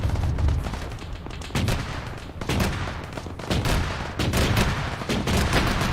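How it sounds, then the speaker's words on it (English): Video-game BMP infantry fighting vehicle in ARMA 3 firing high-explosive rounds into a two-story red building's entrance: a sustained barrage of loud, closely spaced booming shots with heavy reverberant tails across several seconds. "BMP, once we have cleared this 2-story red building, shoot HE into the left entrance."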